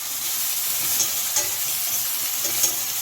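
Onion sizzling in a frying pan as it browns, a steady loud hiss broken by small pops and crackles, with no talk.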